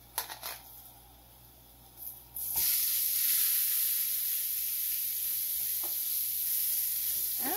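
Fajita meat hits a smoking hot pan with a sudden loud sizzle after a few handling clatters, then keeps frying in a steady, close, hissing roar with occasional light knocks.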